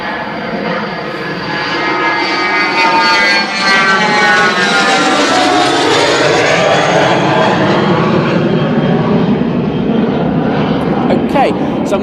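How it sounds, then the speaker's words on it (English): Airbus A380 jet airliner departing Manchester Airport, a loud, sustained roar of engines that builds in the first seconds and then holds, with shifting whine tones across the sound. "as we wait for this A380 to depart"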